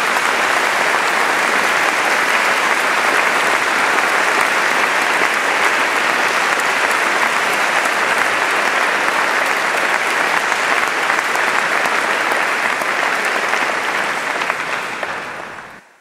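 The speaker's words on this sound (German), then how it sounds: "das ist ein großer Applaus wert." Loud, dense applause from a congregation fills a festive church service marking 500 years of the Reformation in St. Gallen, holding steady for about fifteen seconds before quickly dying away.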